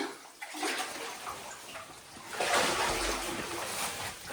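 Wading through deep, cold water in a wild cave tour at Blowing Cave, with steady sloshing and splashing close by, growing louder and busier partway through.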